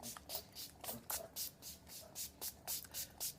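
Face mist sprays from a pump bottle in a quick series of about ten short, close hissing bursts at a fairly even rhythm, with no talking.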